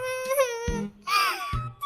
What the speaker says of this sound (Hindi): अपने पति की जली कटी बातें सुनकर टुनटुनी चिड़िया रोने लगती है।